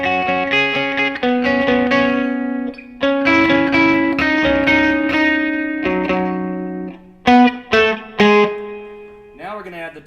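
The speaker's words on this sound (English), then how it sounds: "So we're going to add the para EQ." Electric guitar with a parametric EQ for a specific tone, playing ringing sustained notes with chorus-like shimmer and reverb, loud and close, with pauses between phrases.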